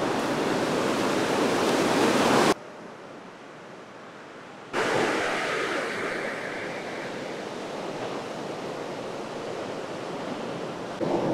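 Loud ocean surf roars with broadband rushing noise, cuts to quieter wind-like hiss, then steady wave wash continues.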